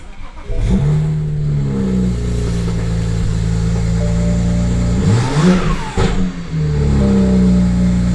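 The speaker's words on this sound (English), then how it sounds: "I don't think the car's been running long enough, but let's see." A car engine idles steadily, then revs up and settles several times after a fresh oil change, close and loud with a smooth mid-pitched drone and no talking.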